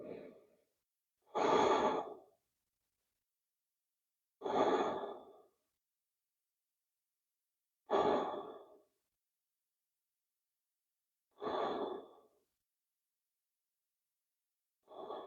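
Slow, deep breaths during a seated chair yoga stretch, about five long exhalations spaced evenly with silence between, close and clear with no talk.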